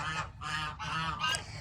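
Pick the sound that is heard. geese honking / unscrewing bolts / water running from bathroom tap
geese honking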